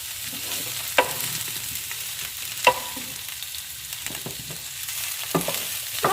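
Cabbage sautéing in a pot and being stirred for Filipino ginisang repolyo, a steady sizzle with a few sharp spoon scrapes and knocks against the pot, close and alone.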